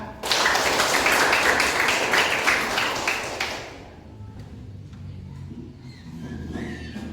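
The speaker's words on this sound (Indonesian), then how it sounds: "Tepuk tangan." A burst of hand clapping from a group of students fills the first few seconds, then fades into quieter classroom noise with faint voices.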